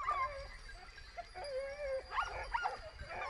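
Hunting dogs whining, yipping and giving short excited barks during a Spanish montería, with high whimpering tones and a few sharp yelps, heard at some distance.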